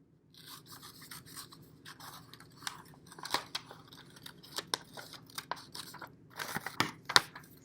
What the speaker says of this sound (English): using your scissors, you're going to cut it out.